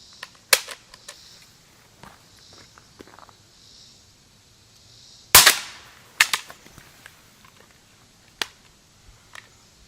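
A surplus CSA vz. 58 rifle magazine dropped during a drop test, giving a sharp hard impact followed by clattering bounces, along with scattered handling clicks and taps before and after. The sounds are close and there is no talking.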